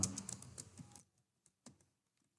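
Keys clatter quickly on a computer keyboard while HTML code is entered, a dense close run of taps that stops abruptly, followed by a couple of isolated keystrokes in near silence.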